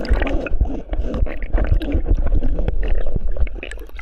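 Underwater at Tribu Farm Resort in Baco, Oriental Mindoro, muffled bubbling, splashing and thumping water noise close by, irregular and continuous.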